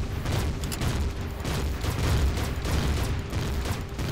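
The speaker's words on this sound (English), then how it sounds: "What's making explosions?" Rumbling explosions and rapid weapon fire in Empyrion - Galactic Survival on a snow planet, a steady barrage of booms and crackling shots with a low mechanical hum underneath, loud and sustained.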